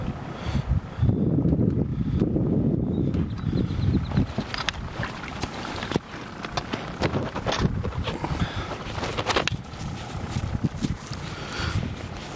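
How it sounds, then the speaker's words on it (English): Gusty wind buffets outdoors at a fishing pond in strong rumbling bursts, with scattered knocks and rustles around it and no talking. "it's so windy. You can probably hear it."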